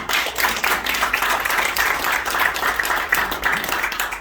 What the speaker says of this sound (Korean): 예, 큰 박수